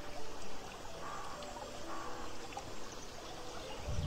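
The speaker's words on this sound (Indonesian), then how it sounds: "Tandon nutrisi Abemix, nah kita lihat airnya mengalir seperti ini." Nutrient solution mixed with AB mix flows through a tank in an open-air hydroponic setup, a faint, continuous trickle and gurgle of water close by, with soft bird calls in the background.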